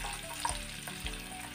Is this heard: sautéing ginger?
yes